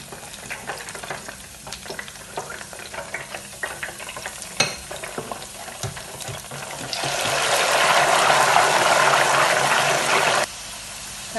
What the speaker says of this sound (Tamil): இப்போ நான் இந்த குடமிளகாய் போடுறேன் பொடிக்கிறதுக்கு.